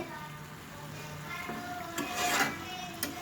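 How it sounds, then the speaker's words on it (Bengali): Quiet frying sizzle of banana flower curry in a pan, with soft scraping and stirring strokes and a couple of sharper clicks, no talking. "আমি কিন্তু আরেকটু ভেজে সুন্দর করে কষিয়ে কষিয়ে নেব"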